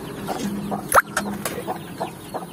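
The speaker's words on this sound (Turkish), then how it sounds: "Civcivler de burada geziyor." Chicks peep and cluck nearby, with one sharp high chirp standing out among softer scattered calls over a low background hum.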